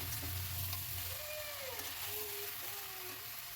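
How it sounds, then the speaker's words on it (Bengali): Onions frying in rendered chicken fat in a pan, a soft, steady sizzle heard fairly quietly for a few seconds with faint incidental clinks. "এদিকে মাংসটাও এখন মানে পেঁয়াজটা ভাজা ভাজা করছি।"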